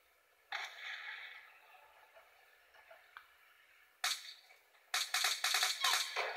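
Video game gunfire comes in quick bursts of sharp, crackling shots, a short volley early, then rapid repeated shots toward the end, thin and moderately quiet.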